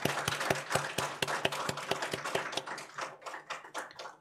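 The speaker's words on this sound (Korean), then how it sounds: "박수 쳐주세요." A church congregation claps together during a Sunday worship service, a steady, dense patter of many hands that fills the room and slowly thins toward the end, with no one speaking.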